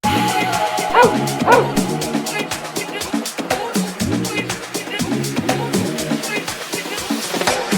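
Several dogs bark and yip repeatedly in quick, uneven bursts, close by, with some whimpering mixed in.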